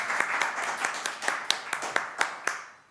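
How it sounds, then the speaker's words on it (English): Faint, steady applause from an audience at an online panel event on the multilateral financial system, with individual claps standing out in an even rhythm for about three seconds before it fades. "I hope you heard the applause."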